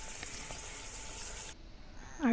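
Fish frying in a pan gives a steady, hissing sizzle that cuts off abruptly partway through, followed by a soft clink near the end.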